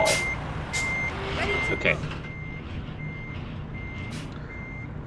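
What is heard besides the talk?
truck reversing beeps, video game Euro Truck Simulator 2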